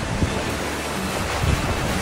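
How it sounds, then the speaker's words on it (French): Strong wind buffets a boat riding at anchor in a Tanzanian anchorage, with steady broadband roar of gusts and surf washing against the hull, dense and continuous throughout, no voices. "il y a trop de vent"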